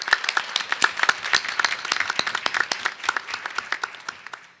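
Applause honouring teachers at a regular meeting, a smaller group clapping steadily with distinct individual claps, fairly close and alone, tapering off at the end.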